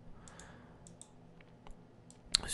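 Computer mouse clicks during 3D texturing work in Element 3D: a few light, sharp clicks spaced irregularly over quiet background hiss, ending in a brief louder burst of clicking.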